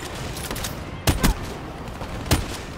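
DBSR-50 sniper rifle shots ring out in a video game, a few sharp, loud cracks spaced apart over steady background game noise.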